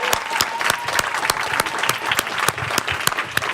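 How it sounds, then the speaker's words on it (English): An audience applauds a panel at a Ford Foundation event on multilateralism, with steady dense clapping from a sizable crowd that carries on throughout without any talk over it. "Can we have another round of applause for this exceptional panel?"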